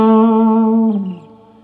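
A single sustained electric guitar note from a major blues rock lick holds with effects-laden tone, then bends downward and fades away within about a second and a half, loud and close, with no voice.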